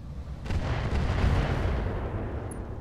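Heavy artillery fire rumbles in the BattleTech-based game Roguetech, a dense, loud, continuous low barrage of booms rolling on for a few seconds without speech.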